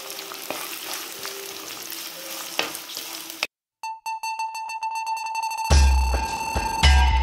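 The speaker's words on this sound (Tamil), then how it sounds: "வெங்காயம் வந்து நல்லா கோல்டன் கலருக்கு வர அளவுக்கு நம்ம வந்து ஃப்ரை பண்ணி எடுத்துக்கலாம்." Onions frying in oil for a country chicken curry, a dense sizzle that cuts out briefly, then steady beeping from an appliance, then the sizzling returns louder.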